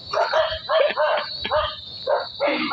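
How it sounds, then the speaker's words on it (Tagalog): A dog barks repeatedly at close range, quick yappy barks in rapid succession with brief gaps, loud and steady through the moment. "tinatahulan ako ng aso"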